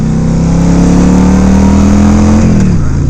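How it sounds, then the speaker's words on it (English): A loud, close Yamaha V-Star 1100 Custom motorcycle engine roaring steadily as it accelerates, its rumbling tone rising slightly before dropping off near the end. "It makes a lot of noise when you're accelerating."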